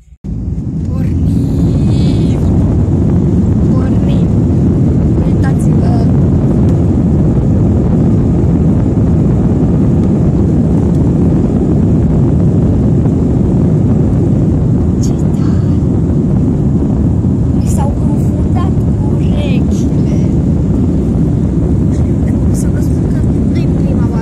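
Steady, loud broadband roar of a passenger airplane in flight, heard from inside the cabin as a continuous low rumble with wind-like hiss that holds evenly throughout.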